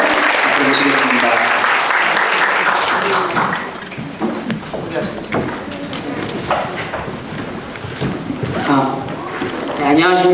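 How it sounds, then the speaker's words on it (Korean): A school gathering claps to welcome alumni association members to the front, with loud, full applause at the start that thins into scattered claps under shuffling and voices, then swells again briefly at the end. "우리 박수로 우리 동문회 회원들 앞으로 모시겠습니다."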